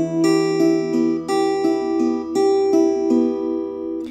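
Fingerstyle acoustic guitar plays the opening chord of STALKER, a picked arpeggiated pattern repeating in about eight clear plucked strokes with ringing sustain, close and alone with no talking.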